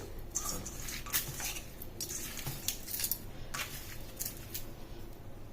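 Cooked rice being stirred and tossed with a spoon in a pot or bowl while making lemon rice, giving steady soft scraping and clinking of utensil against the vessel, close and continuous with no talk.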